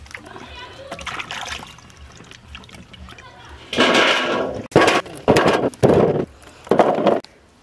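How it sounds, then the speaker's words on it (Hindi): Over 100 kg of radishes being washed in water for pickle, with several loud splashing bursts in quick succession after quieter handling sounds, with voices nearby. "इसी तरह से हम सारा मूली को धो लेंगे"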